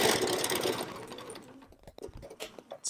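A sewing machine stitches a fabric face mask, running in a dense continuous whir for just under a second before breaking into short, sparse needle bursts as the stitching stops and restarts.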